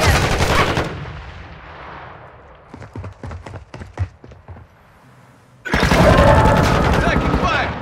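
Gunfire in the video game Warzone: a burst of rapid shots, then a sparse run of sharp individual cracks and thuds, followed by a loud stretch of heavy automatic fire, with game voice callouts heard between the bursts.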